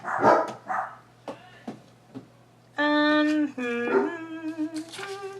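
Pet dogs bark in a few sharp bursts, then break into long, high, wavering whimpers and whines, fairly close and loud, with a short voice near the start.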